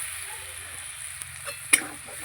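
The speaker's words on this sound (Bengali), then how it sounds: "অল্প একটু জল দিয়ে মশলাটাকে কষাবো।" Spiced masala paste cooks down in a pan with a splash of water, giving a soft, steady sizzle with a couple of light utensil clicks partway through.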